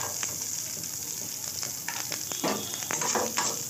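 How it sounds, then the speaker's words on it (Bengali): Chopped coconut fries lightly in oil with spices, a bright steady sizzle under scattered scrapes and taps of stirring that grow busier toward the end, close by with no talk. "তো হালকা করে নারকলটাকে আমি ভেজে নিচ্ছি।"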